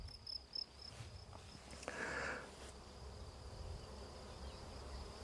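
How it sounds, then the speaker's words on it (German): Honeybees buzzing as they fly over a rapeseed field in June, a soft continuous hum with a few closer passes rising briefly above the faint outdoor background. "man hört es summen, man hört es fliegen. Also die Bienen sind da doch noch interessiert."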